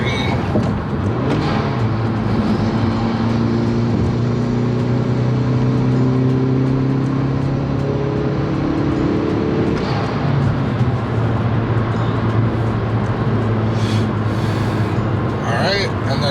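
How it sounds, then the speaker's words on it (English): A Hyundai Veloster fitted with a Go Fast Bits DVX valve in bypass mode pulls hard past a green light, its engine note climbing steadily and loudly for most of the stretch while someone talks over it. "I'll try to see if I can do one last pull passing this green light"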